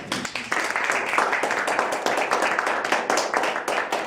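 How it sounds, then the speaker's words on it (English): A room full of people clapping steadily, a dense and even patter of applause that runs for several seconds. "Please join me in standing up and applauding Frank."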